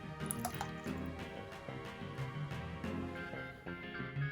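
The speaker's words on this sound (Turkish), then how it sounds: "100 gram tereyağı erittim. İçine ilave ediyorum." Melted butter pours into a bowl of tahini, giving soft, close dripping and squishy liquid sounds over a few seconds, with no talking.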